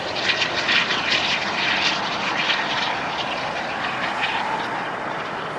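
Heavy jet roaring steadily at LAX airport during landings and takeoffs, a loud continuous broadband engine rush holding without pause and with no voices.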